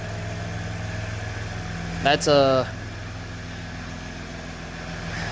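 A 2016 Ram 1500 EcoDiesel truck fitted with a diesel delete kit idles with a steady, deep low rumble, while a person speaks briefly partway through.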